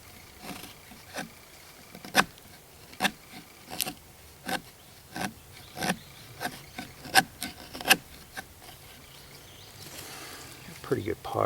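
Wood is scraped into fine shavings for fire tinder, a steady series of about a dozen rhythmic raspy strokes, close and moderately loud, with a voice briefly audible near the end.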